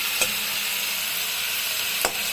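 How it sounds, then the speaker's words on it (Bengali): Bengali boroli fish curry with potatoes and pointed gourd is stirred in a pan over a raised gas flame, giving a steady soft sizzle with two brief scraping clicks of the spoon, close and alone. "এখন একটু নাড়াচাড়া করবো"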